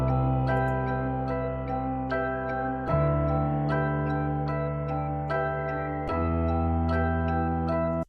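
A rendered melody pattern slowed down 50% in FL Studio plays alone: sustained, harmonically rich chords with a plucked melody over them, shifting to new chords about every three seconds and stopping abruptly at the end.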